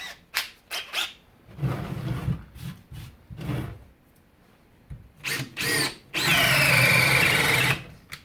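A Makita XFD11 sub compact cordless drill boring with a 1 inch bit, heard close in several short bursts that strain and stop, then one longer whining run near the end.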